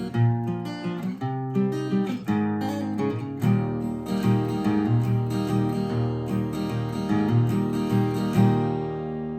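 The intro of a song is played on guitar at regular speed, with picked and strummed notes ringing close and clear in a steady flowing rhythm, with no talking.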